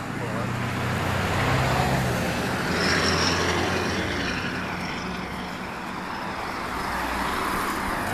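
A diesel fuel truck drives past, a loud, steady rumbling roar with a broad engine drone that swells and fades slightly over several seconds, close by and unbroken.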